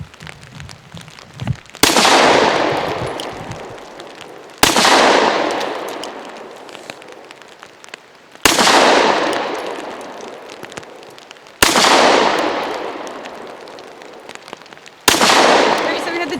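Five loud shots ring out from a Diamondback DB9, a slim pocket 9mm pistol, spaced a few seconds apart, each a sharp crack with a lingering outdoor decay; a faint voice is heard before the first shot.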